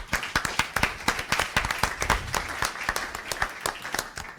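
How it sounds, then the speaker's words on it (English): An audience applauds the contestants at a live elevator pitch competition, with dense, sustained clapping from many hands that stays loud and even throughout. "another round of applause."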